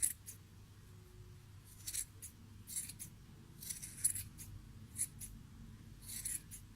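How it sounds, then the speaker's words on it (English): Quiet, irregular snips of scissors trimming a yarn pom-pom close by, several short crisp clips spaced unevenly with soft rustling between them. "These are my bigger scissors now, and just trim these little bits off."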